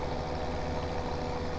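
Low-horsepower tractor engine in the Farming Simulator 17 video game bogging down under load, a steady dense drone throughout, loud and unbroken.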